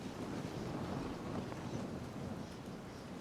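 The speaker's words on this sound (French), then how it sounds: "Il n'y a aucun bruit, juste le vent." Steady wind blows across the open Shetani lava flow in Tsavo West, Kenya, a constant broadband rush with low rumbling buffets and no other sounds or voices.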